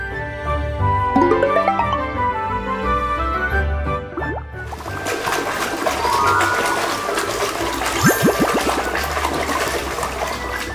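Cartoon water-washing effect for cleaning a large object, a splashy, gurgling, flushing rush with bright musical tones over it, sustained for about ten seconds and loud throughout.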